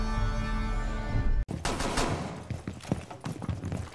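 Gunfire in the tactical shooter video game Rainbow Six: a sharp onset cuts in, then a dense burst of rapid shots and impacts follows, loud and close, with no talk.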